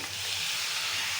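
Turmeric-coated chicken pieces sizzle in a hot pan, a steady hissing fry that holds evenly for just over a second.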